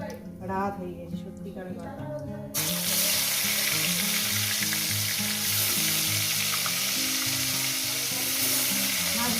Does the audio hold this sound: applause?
no